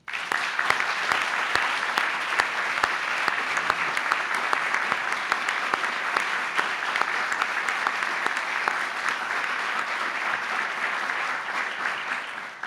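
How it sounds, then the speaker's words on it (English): Audience at the BUILD Health Awards ceremony gives a long, sustained round of applause, thick crowd clapping with sharp individual claps popping out early, holding steady before easing slightly at the end. "Again, a round of applause."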